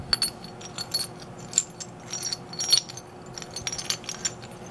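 Halloween-themed silver bullion pieces, from 76 to 218 grams, clink and jingle against each other in a steady run of small metallic taps, close and fairly quiet, with no voices.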